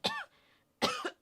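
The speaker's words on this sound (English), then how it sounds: "Coughing and sneezing." Two or three rough, dry coughs come close to the mic in quick succession, loud and short, with a brief pause between them.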